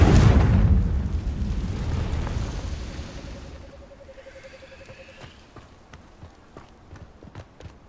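The Confringo blasting spell from the Hogwarts Legacy video game goes off as a loud, close explosion with a deep boom that decays into a lingering rumble, followed by faint scattered clicks and taps.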